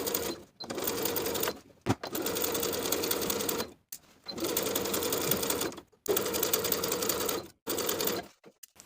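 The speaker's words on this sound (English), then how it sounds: "Top stitch the facing to the neckline, edge stitching right along your finishing stitches all the way around." A sewing machine top stitches a facing to the neckline of a tee, edge stitching in four sustained runs of rapid, even needle chatter with brief stops between them, close and clear.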